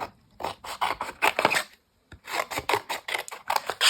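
Scissors snip through paper drawings of smiling snails in bursts of close, crisp cuts with a brief pause midway; no talking.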